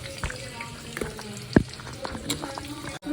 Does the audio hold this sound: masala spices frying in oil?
yes